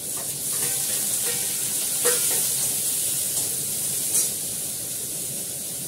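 Green chillies, chopped onion and capsicum frying in a little oil in a pan for chowmein, a steady bright sizzle and hiss with faint stirring scrapes and a couple of louder spatters, no talk.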